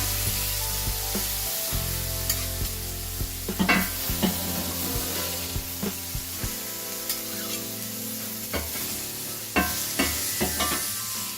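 Steak sizzling on a grill, a continuous close hiss with scattered pops and scraping clicks, a low hum at the start fading out, no one talking.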